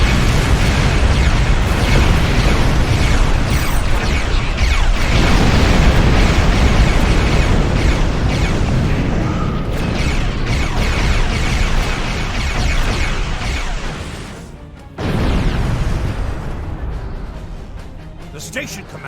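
Energy weapons from a Star Trek starship's defensive cannons fire amid continuous loud explosions and booming blasts, with a sudden sharp burst about three-quarters through, under dialogue.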